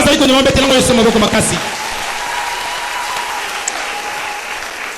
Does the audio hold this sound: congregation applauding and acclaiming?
yes